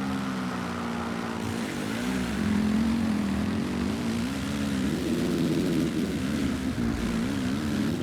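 Kawasaki dirt bike engine in the video game MX vs ATV Legends, a steady droning whine that rises and falls slightly with throttle, continuous and fairly loud.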